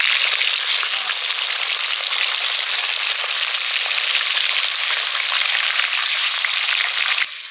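Fresh katla fish fries in a well-seasoned iron kadai, giving a loud, continuous hiss of hot oil that stays even throughout before dropping slightly at the very end.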